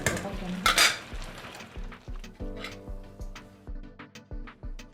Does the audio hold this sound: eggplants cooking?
yes